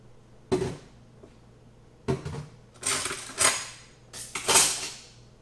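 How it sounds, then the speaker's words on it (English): Dishes clink and clatter as they are set back into a kitchen sink, several separate close clanks of crockery and cutlery spaced across a few seconds, with no talking. "Now remember, they had dishes in their sink, so we're just going to neatly put those back in."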